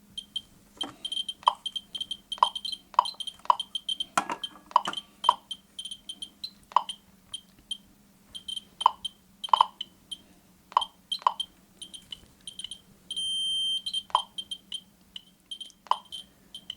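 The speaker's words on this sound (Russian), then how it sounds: "Хорошо слышно, что ДРГБ издает более частые импульсы, чем радиоскан и МКС." A DRGB-01 ECO-1 dosimeter-radiometer measures a granite tile, emitting short, sharp clicking beeps at irregular intervals, about twenty pulses spread across the stretch against a faint steady hum.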